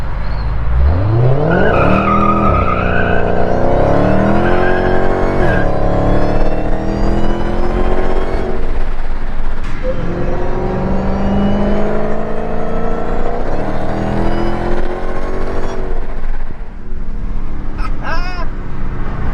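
A Dodge Hellcat fitted with a JLT cold air intake revs and accelerates up close, its rising supercharger whine sweeping upward over a loud engine roar, easing off and climbing again through repeated pulls.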